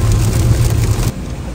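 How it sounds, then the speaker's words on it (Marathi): Heavy rain pouring down, a dense, loud, steady wash of noise that drops slightly in level near the end, with no voices. "एवढा पाऊस येतोय"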